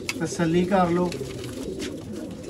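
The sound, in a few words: pigeons cooing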